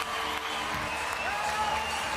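Boxing arena crowd in Liverpool applauding and cheering after a split-decision finish, a steady dense roar of clapping and voices throughout.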